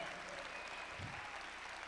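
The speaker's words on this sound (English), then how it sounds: "Come on, keep clapping like we got power in this room." Conference audience applause continues as a steady, even roar of many hands, with a voice faintly audible over it.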